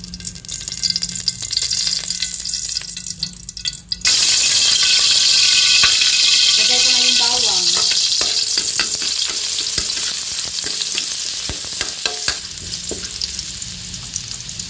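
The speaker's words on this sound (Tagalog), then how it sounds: "Ngayon maggisa na ako. Maglagay na ako ng mantika." Cooking oil heating and sizzling in a pan for a miswa soup sauté, the frying hiss jumping sharply louder partway through and holding steady with occasional stirring clinks and scrapes, close and alone.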